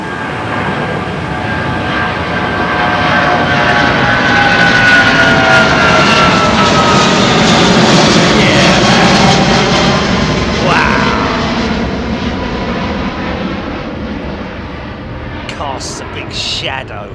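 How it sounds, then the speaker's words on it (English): A Saudi Arabian Airlines Boeing 777 pushing back from Terminal 4 at Heathrow gives a loud, close engine whine over a rolling rumble, peaking midway and then tapering, with voices audible in the background. "Saudi Arabian Airlines 777 pushing back from T4"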